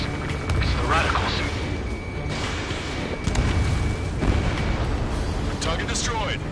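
In the Ace Combat video game, an enemy vehicle is destroyed in a loud, sustained rumbling blast, with booming bursts and roaring noise, while radio voices talk over the din.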